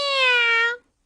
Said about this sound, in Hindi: बिल्ली यहाँ पर।